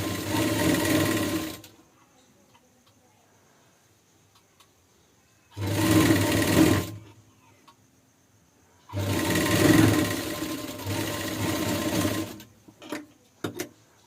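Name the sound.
sewing machine stitching blouse lining to fabric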